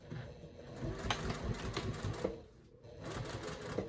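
A sewing machine topstitches an eighth of an inch from the edge of an easy summer shirt, chattering in a quick, steady rhythm at low volume with a brief slowdown midway.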